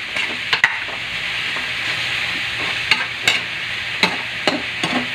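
Chicken fries in its own fat with no oil added, a bright steady sizzle running throughout while a utensil clicks and taps against the pan every second or so.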